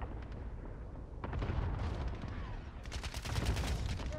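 Cluster strike explosions in a first-person shooter game: a dense run of booming blasts and crackling bursts rolling over one another, with a fresh flurry near the end over continuous gunfire.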